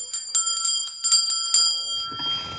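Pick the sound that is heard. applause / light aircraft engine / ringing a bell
ringing a bell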